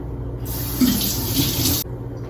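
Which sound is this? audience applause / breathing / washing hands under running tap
washing hands under running tap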